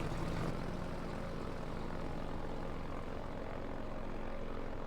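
An airboat engine in the video game Half-Life 2 roars steadily and loudly throughout, a dense droning wash with a brief bump near the start, no talking.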